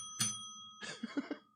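An English bell is struck, a bright ring that sustains and hangs in the air before a second strike, followed by faint murmuring voices.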